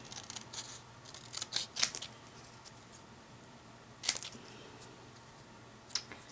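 Scissors snip through paper in a handful of sharp, crisp cuts, clustered in short bursts with quiet pauses between, close and fairly faint.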